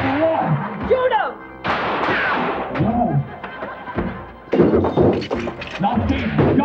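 Comic radio-style sketch with several sharp gunshot bangs breaking through loud, busy voices and sound effects, the shots close and abrupt amid the dialogue.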